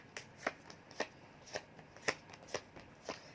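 Tarot cards being shuffled, crisp riffling snaps repeating about every half second, close and fairly quiet with no talking.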